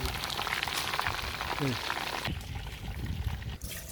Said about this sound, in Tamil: அதுக்கு எண்ணெய் ஊற்றுறேன்